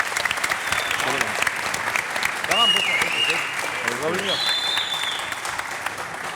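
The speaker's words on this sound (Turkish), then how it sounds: "Tüm anneleri bir kere bir değil mi? Alkışlayalım." Studio audience applause for mothers on a Turkish talk show, sustained clapping from a crowd with cheers and voices rising over it throughout.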